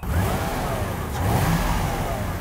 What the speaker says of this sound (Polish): Uwaga, uruchamiam piękne 4-litrowe V8 wolnossące.